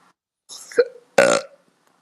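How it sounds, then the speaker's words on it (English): Someone belches twice during a racing live stream: a short throaty burp, then a louder, fuller one right after, both close to the mic with no talk over them. "I just belched"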